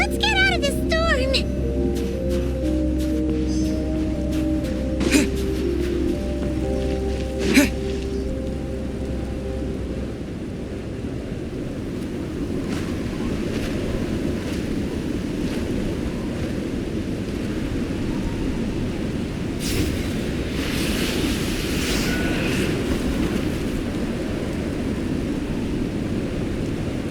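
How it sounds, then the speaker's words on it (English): A howling storm wind sweeps through the snowy Snezhnaya region of Genshin Impact as a constant loud roar, with a low rumble and music fading out over the first seconds. "Let's get out of this storm."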